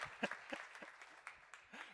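A small conference audience applauding at a financing session, with faint, sparse clapping heard at a distance in a quiet room.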